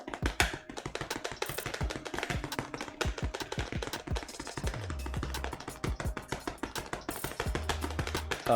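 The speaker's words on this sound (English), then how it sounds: "Tilt the bowl and whisk it up." Rapid, rhythmic clinking of a whisk beating German cheesecake batter in a tilted bowl, a steady flurry of close, sharp taps against the bowl's side, continuing throughout without pause.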